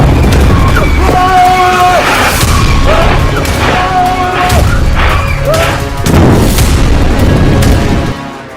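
Heavy explosions boom in war news footage from Gaza and Beirut, repeated deep blasts and crashes under a narrator speaking loudly throughout.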